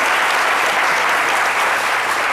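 Studio audience at a television comedy show breaking into loud, dense applause, sustained and even for the whole short stretch.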